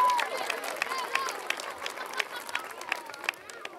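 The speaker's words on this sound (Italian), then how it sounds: "Un applauso per Luca." An audience at an evening youth summer camp gathering in a church setting claps in a steady, moderately distant burst of applause, with crowd chatter underneath.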